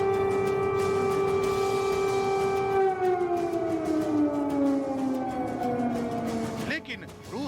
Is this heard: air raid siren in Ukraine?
yes